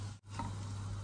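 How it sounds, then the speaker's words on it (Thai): Chopped large onions sauté in olive oil with a pinch of salt in a big pot, giving a soft continuous sizzle with a brief dip in sound. "มาผัดหัวหอมให้เขาหอมก่อนนะคะตอนผัดก็หยอกเกลือนะคะ"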